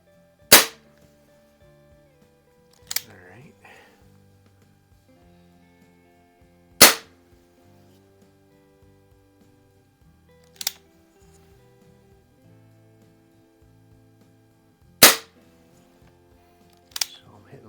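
Crosman Fortify air rifle firing six sharp, loud cracks spaced several seconds apart, each with a quick decay, over quiet faint background tones.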